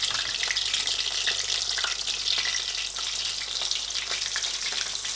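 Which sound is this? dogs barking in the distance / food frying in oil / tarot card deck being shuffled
food frying in oil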